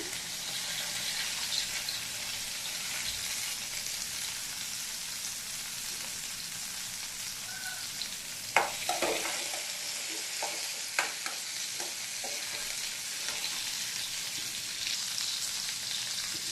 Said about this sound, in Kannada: ಈಗ ನೀರುಳ್ಳಿ ಬೆಳ್ಳುಳ್ಳಿಯನ್ನು ನಾನು ಫ್ರೈ ಮಾಡ್ಕೊಳ್ತೀನಿ